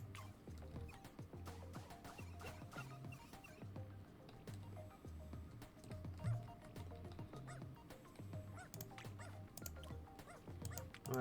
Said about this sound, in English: I want to throw a new dog in here.